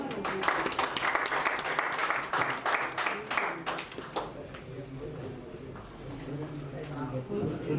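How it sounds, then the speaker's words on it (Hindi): Applause from an audience at an office opening celebration, dense clapping for the first four seconds that thins into scattered claps and murmuring crowd voices. "मैं उनके लिए एक बार जोरदार तालियां"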